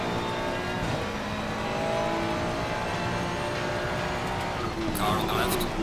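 A GT race car in the Assetto Corsa Competizione racing game roars past on the left at Oulton Park, a steady engine drone with a sharper burst near the end.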